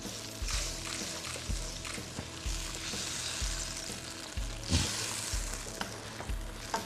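Sweet sauce for fried mackerel bubbles and sizzles steadily in a pan, with repeated scraping stirs and low knocks at a regular rhythm, close and fairly loud, with no voices.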